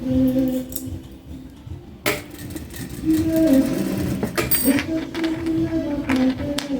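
A sewing machine stitches fabric for a toiletry bag in steady mechanical runs, pausing briefly and restarting, while someone talks over it.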